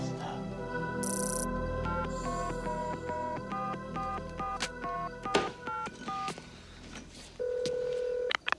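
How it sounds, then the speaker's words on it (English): A sequence of touch-tone keypad beeps as a toll-free number is dialed on a telephone, each tone short and distinct in a steady run, followed by a longer held tone. "Igor, dial 1-800-555-FEAR"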